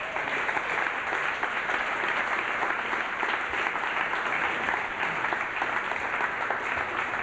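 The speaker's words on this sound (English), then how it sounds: "Please give a big hand of applause." Sustained audience applause for the poet Ursula Rucker as she is brought up to perform, a dense, even wash of clapping that holds steady for the whole stretch with no voices over it.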